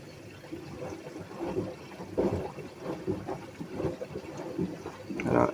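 Water poured into a container, an irregular run of close gurgling splashes and trickles of moderate loudness.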